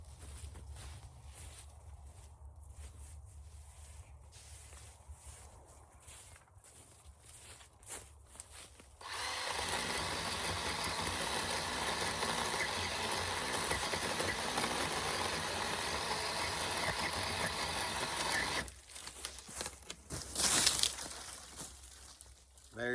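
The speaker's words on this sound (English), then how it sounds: "I got a pole saw, so I'm gonna use it just so I can have further distance" Motorized pole saw cutting briars from a tree, a loud steady engine whine that starts after footsteps and rustling, runs for about ten seconds, then cuts off before a short final burst.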